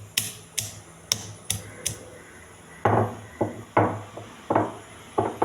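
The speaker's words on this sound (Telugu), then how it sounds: "వెల్లుల్లిపాయలు కొంచెం ఒక్క ముక్క దంచుకోవాలి." A piece of garlic being pounded, with about a dozen sharp, close knocks: quick taps at first, then heavier, evenly spaced thuds.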